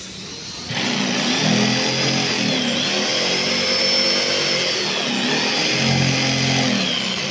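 Power tool cutting wall cladding on a building job in Bohol, loud, continuous whining buzz starting abruptly and holding steady with slight pitch shifts.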